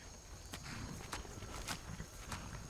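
Shadowmere, a horse in the Skyrim VR video game, walks with sparse, soft hoof thuds spaced about half a second apart over a low ambient hum.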